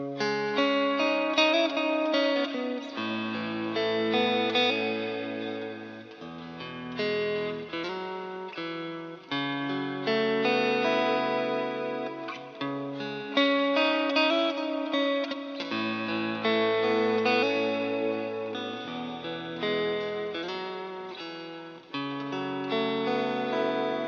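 A Fender Stratocaster electric guitar plays a sustained, chord-driven melody drenched in delay and reverb, with notes ringing into one another throughout.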